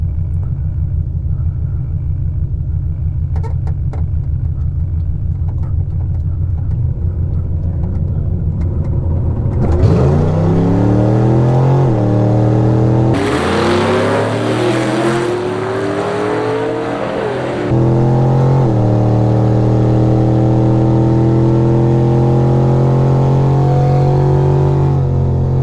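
Buick drag car at Virginia Motorsports Park, engine idling in a low rumble before revving hard and accelerating in rising, loud roaring sweeps, then settling into a sustained droning pull.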